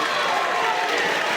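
Crowd at a DEFY Wrestling match, Swerve Strickland versus Nick Wayne, cheering and roaring in a steady wash of noise that fills the whole moment, with a commentator talking over it.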